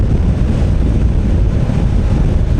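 Steady, loud wind buffeting roars behind a Puig touring screen on a Honda NC750X motorcycle while riding, a constant low rumble with no letup and no voices.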